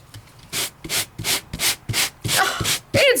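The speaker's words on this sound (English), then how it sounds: "Do a really quick sand." Quick hand sanding of a paper craft die-cut piece, about eight short rhythmic scratchy rubbing strokes in a row, close and fairly loud, with no talking.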